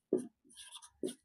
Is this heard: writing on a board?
yes